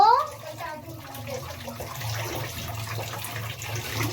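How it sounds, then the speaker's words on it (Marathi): Tap water runs steadily into a sink while coriander leaves are washed in a home kitchen, a continuous close splashing wash with a voice speaking briefly at the start. "मला पप्पांनी काम सांगितलंय ही कोथिंबीर धुवायला. आता मी धुते."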